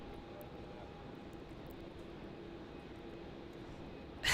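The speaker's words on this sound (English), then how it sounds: "QF95's taxiing up." A Qantas airliner, flight QF95, taxis at Melbourne Airport at night, giving a steady, fairly distant engine whine and broad rumble that holds even throughout, with no talk over it.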